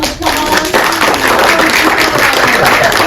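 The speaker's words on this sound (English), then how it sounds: "Can we give him a round of applause?" A live audience claps for a guest, producing a dense, loud, sustained round of applause that fills the whole stretch without letting up, with a voice faintly mixed in.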